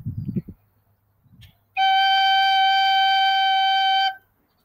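A recorder sounds a single sustained G, a clear pure whistly tone held steadily for about two and a half seconds, close and alone after a few faint bumps.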